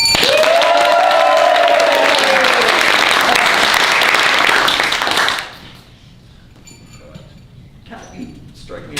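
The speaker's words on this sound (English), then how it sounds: "Everyone applauds wildly" An audience at a San Francisco Fringe Festival show claps loudly and densely for about five seconds, with a voice over it, then the applause cuts off into near silence.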